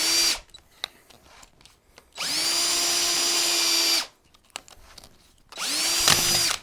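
A power drill runs at low speed boring a hole during tail light installation on a BSA 441 Victor motorcycle, in two sustained bursts of steady whine separated by a short pause and some handling noise, close and fairly loud.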